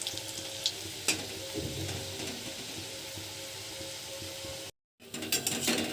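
Coriander leaf fritters deep frying in oil make a constant, moderate bubbling sizzle with a few louder pops and a brief break near the end.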